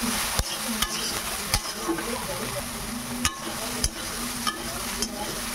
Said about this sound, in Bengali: সয়াবিনগুলো হালকা করে ভেজে নেব, বেশি কড়া ভাজবো না